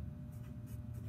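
Marker or chalk writing a number on a classroom board, faint scratchy strokes in short bursts over a low room hum; no talk.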